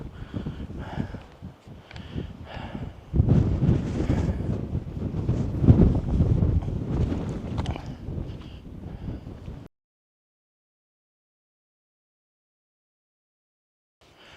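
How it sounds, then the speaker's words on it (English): Strong wind buffets the microphone with a loud, rumbling roar for about ten seconds, gusting harder midway, then cuts off into silence. "It's so windy."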